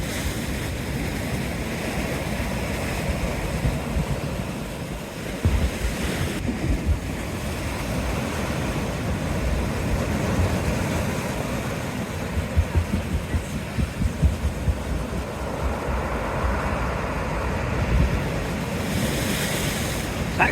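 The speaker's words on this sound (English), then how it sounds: "at least you're going to get some of these lovely noises I'm hearing from the sea" Rough sea waves breaking on a seafront, a continuous loud roar of surf with surges and wind rumble throughout.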